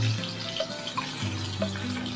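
Garlic paste frying in hot oil with nigella seeds and green chillies in a pan: a soft, steady hiss with faint crackles and a few small pops, close and quiet, with no talking.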